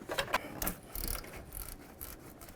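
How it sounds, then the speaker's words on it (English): A 13mm ratchet wrench clicks as it backs a nut off the oil filter and cooler housing of a 5th generation Dodge Caravan, with a quick run of close, sharp ratcheting clicks followed by steadier metallic working sounds. "We just need it to be far enough to get our 13mm wrench on there to get the nut off."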